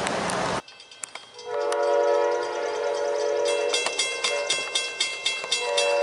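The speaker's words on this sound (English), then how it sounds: "let's cut to the next train." A freight or passenger train on a CSX, BNSF or Amtrak line sounds its horn loudly, then passes close by with rumbling cars and rhythmic clickety-clack of wheels over rail joints.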